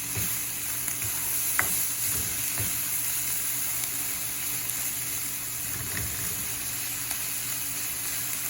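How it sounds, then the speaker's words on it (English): Spanish rice sizzles steadily in a frying pan as it is stirred, a continuous close frying hiss with occasional soft scrapes of the spoon. "So I keep stirring this."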